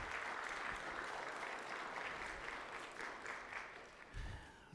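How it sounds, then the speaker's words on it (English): Applause from a church congregation at First United Methodist Church of Morris, Illinois, a steady wash of many hands clapping that fills the room at moderate loudness, then tapers with a few louder claps near the end. "So would you just offer applause for that?"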